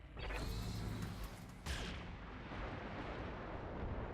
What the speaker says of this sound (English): we did get some SRM ammo explosions there, which did some good damage to our opponent